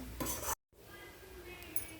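Crumbled leftover chapatis stirred in a wok for chivda, giving a dry scraping and rustling with a brief gap before a steady, moderately close rasp.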